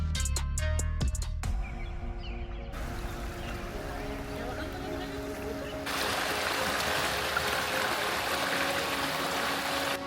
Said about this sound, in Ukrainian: а це водоспад ворота дракона.